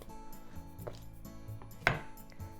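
Quiet knife work on an onion at a kitchen cutting board, a few soft taps and scrapes and one sharper chop on the board as the top and bottom are cut off.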